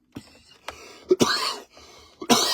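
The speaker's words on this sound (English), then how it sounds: "I have a bit of cough." Several sharp coughs, close and loud, in short bursts with brief pauses between them, including a couple of harsh, throaty hacks.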